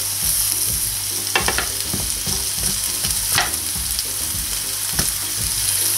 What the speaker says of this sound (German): Die werde ich jetzt in Butter etwas anschwitzen.